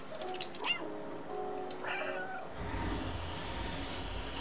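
A cat meows a couple of times in the Stray video game, a short mid-level call and a second drawn-out one, over a steady background ambience that deepens into a low rumble.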